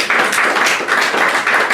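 An audience claps at a certificate presentation, a short burst of dense, steady applause that holds at an even level without talk over it.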